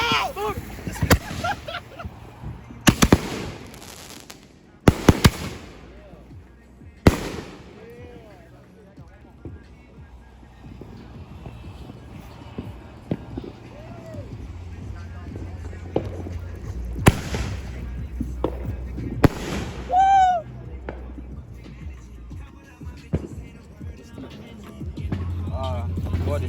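Family fireworks go off at night in a series of loud, sharp booms and cracks, some close and some distant, with whistling rockets and fizzing between bursts while people talk in the background.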